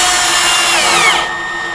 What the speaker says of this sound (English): I decided to switch over to a regular drill here because that impact driver against plastic might not be the best